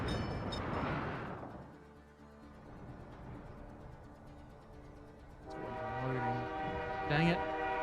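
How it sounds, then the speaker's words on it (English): Freight train in a colony-building video game sounding a long horn while its wagons rumble along steadily, with a sustained tonal blast returning near the end over the rolling noise; a voice is also present. "Where's my booze train?"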